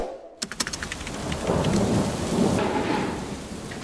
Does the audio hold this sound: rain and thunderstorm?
yes